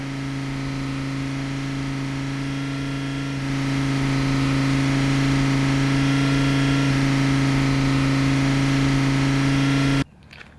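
Sampled car engine held at a steady idle, then stepping up to a louder, higher-revving drone partway through, a constant tonal hum that cuts off abruptly near the end.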